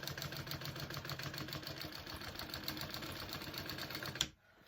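A sewing machine runs a reinforcing line of stitches over a strap piece and D-ring connector, a steady rapid mechanical chatter that stops abruptly near the end.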